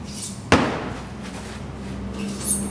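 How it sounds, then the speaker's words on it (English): A piece of steel welded to a stick strikes a tire with one sharp, loud slam, followed by quieter rattling and a second faint hit near the end. "you were beating this poor, defenseless tire with what seems to be a piece of steel welded to a stick"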